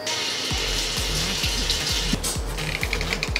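Tap water runs steadily and close by while dyed hair is rinsed in a salon-style transformation, a continuous broadband splashing wash with small irregular bursts and no talk.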